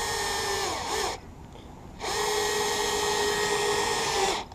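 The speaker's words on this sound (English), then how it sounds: "Grab your drill, stick her underneath, grab your screw." Loud whirring of a power drill driving a screw into a plywood boat, close by, two bursts with a short pause between them.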